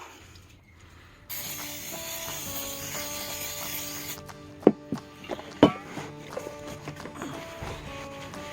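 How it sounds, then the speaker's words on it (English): A steady, hissing aerosol cleaner spray on new brake rotors of a 2008 Mustang GT runs for about three seconds, followed by several sharp metallic clanks and taps from handling parts. "Let's spray this down and get it ready for install."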